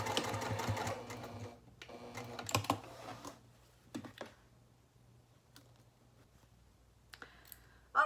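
A sewing machine basting a narrow seam on a reusable fabric gift bag, quick bursts of rapid stitching separated by pauses and small clicks, close by with no voices.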